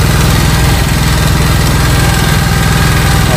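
A small petrol generator runs steadily during servicing for a fault where it produces no electrical output, giving a loud, continuous engine drone with a low rhythmic pulse and no talking over it.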